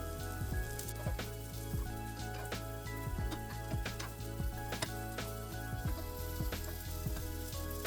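Sweet corn patties coated in semolina sizzle steadily in a pan as their second side fries, with a dense continuous crackle and scattered sharper pops, close and even throughout.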